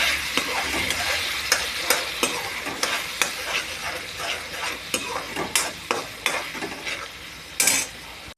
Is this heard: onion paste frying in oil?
yes